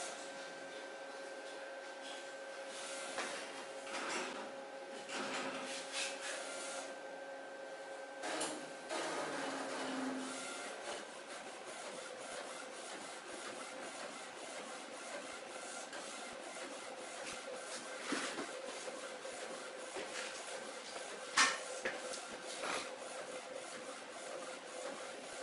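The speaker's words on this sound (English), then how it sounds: "And we wait for the printing process." A Wayprinter WP1390eUV A3 UV flatbed printer printing onto a phone case: a quiet, continuous mechanical whir with steady motor tones and soft sliding and rubbing sounds from the print carriage, with no talking.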